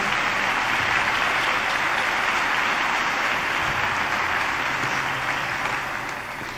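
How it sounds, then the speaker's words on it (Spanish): Sustained audience applause for musicians at a concert, a dense, steady wash of many hands clapping throughout that eases slightly toward the end, with no voices over it. "Aplauso a estos maravillosos músicos."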